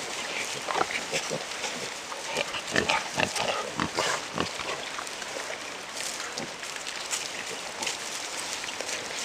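Pigs being fed beets, carrots and turnips on a homestead grunt and snuffle in a busy, close jumble of short noisy bursts, with crunching and rustling throughout.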